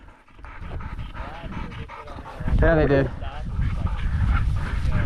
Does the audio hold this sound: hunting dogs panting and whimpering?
yes